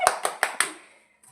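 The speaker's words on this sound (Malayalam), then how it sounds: "എടാ ഒന്ന് കൈയടിച്ചു കൊടുത്തേടാ" Four quick, sharp hand claps ring out close by in an even rhythm, then fade into quiet.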